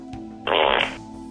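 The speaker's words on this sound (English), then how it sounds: "they did make it possible to replace the system beep with a fart of your own creation" A short, buzzy fart noise about half a second long, used as a custom Apple Macintosh LC system beep, bursts over a steady electronic hum, then cuts off.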